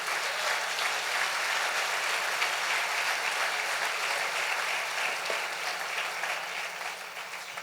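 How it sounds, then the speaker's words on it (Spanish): Sustained, dense applause from a church congregation honouring the King, loud and steady throughout with no talk over it. "Dale fuerte el aplauso al Rey bendito."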